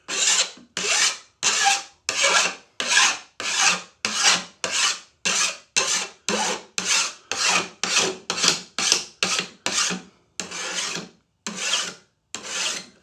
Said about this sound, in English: I'm just going to deburr this with the file, creating that sound that everybody likes so much.